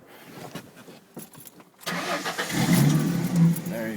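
A 2002 Ford Mustang V6 cranks and fires up after some quiet clicking and fumbling, then settles into a steady, smooth idle with a rising hum close by.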